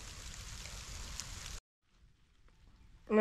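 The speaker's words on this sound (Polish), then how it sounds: "Zaczyna padać deszcz, jest piękny las" Rain falls in a forest as a soft, even patter for about a second and a half, then cuts to near silence before a faint sound at the end.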